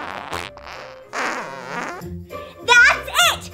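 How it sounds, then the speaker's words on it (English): A novelty fart bag lets out several loud, wet fart noises in close succession, squeaky and rising, after some children's speech in a back-to-school comedy skit. "Quick, bro! Hand me my fart bag!"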